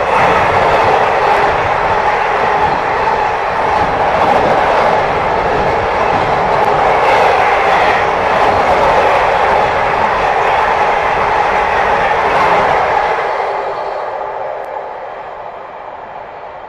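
A container freight train rumbles steadily past Alnmouth Station, loud and close with a continuous roar of wheels on rail, then fades as the last wagons pull away.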